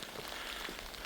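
Rain falling outdoors near a fishing shelter in northern Saskatchewan, a faint continuous patter with no voices.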